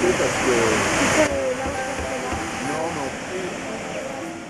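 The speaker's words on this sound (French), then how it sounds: "Nous voici devant les chutes de Thompson" Thompson's Falls in Kenya, a 74-metre waterfall, pours in a steady, dense roar, loud and close, with faint voices murmuring underneath the rushing water.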